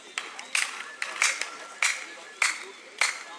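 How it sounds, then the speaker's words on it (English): Hand claps echo off the stone of the Maya temple at Chichen Itza, five sharp outdoor claps spaced evenly, each followed by a short ringing reverberant tail. "Listen if I clap here."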